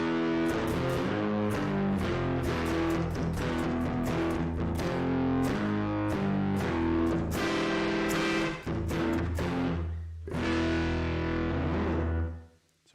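Electric guitar played through the PD Space Guitar iOS app with modulation and reverb effects and no synth blend, sounding as a shimmering, chorused run of plucked notes and chords with a lush wash of reverb, steady and loud throughout.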